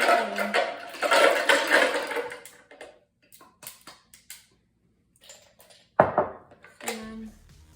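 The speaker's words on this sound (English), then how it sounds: "take your 3 cups of ice and pour that in" Three cups of ice cubes poured into a blender for a lemon slushy, giving a clattering, crunching rattle of cubes against the container. Quiet stretches and a few short clinks follow, then a second sharp burst of clatter near the end.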